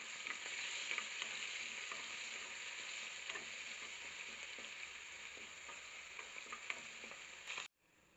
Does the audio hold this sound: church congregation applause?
no